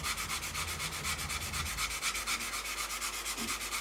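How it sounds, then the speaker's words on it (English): A sanding sponge rubbed lightly along the fuselage of a 1/32 Revell Messerschmitt Bf110 C-2 plastic model kit, giving a soft, even, rhythmic back-and-forth scratching close by, quiet and steady without speech. "So there's no pressure going down on the sand and sponge"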